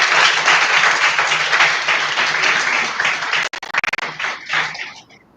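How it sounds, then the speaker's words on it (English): Applause from a workshop audience: a dense wash of many hands clapping that fades and breaks up into scattered claps toward the end, with faint voices mixed in. "Can you give her a round of applause?"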